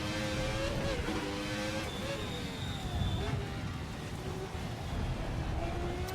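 A 1990 Formula One car with a V10 engine in the racing sim Assetto Corsa, its engine screaming steadily as it rises and falls through the gears, loud and continuous throughout, with speech over it.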